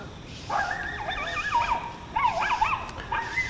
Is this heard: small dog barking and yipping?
yes